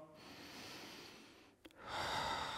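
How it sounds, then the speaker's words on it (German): Deep, steady breathing during a hip flexor stretch, a long soft airy inhale that dips briefly before a fuller, louder exhale, close and alone with no talk. "Und dabei tief nach unten atmen, ins Becken."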